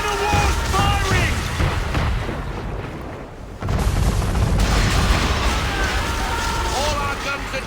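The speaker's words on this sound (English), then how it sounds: "Man of war's firing!" Man-of-war cannon fire in the Assassin's Creed 3 video game, heavy booming blasts and rumbling naval gunfire layered under game music and voiced dialogue.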